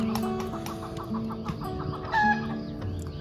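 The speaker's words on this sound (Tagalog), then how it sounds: "Ginigising na tayo ng mga manoks." Hens cluck steadily in a close, busy chorus at a rural campsite, and a rooster lets out a short crow partway through.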